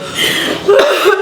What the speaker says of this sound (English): There's that cough.